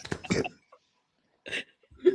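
A short burst of coughing opens the clip, followed by near silence and then brief bits of a voice.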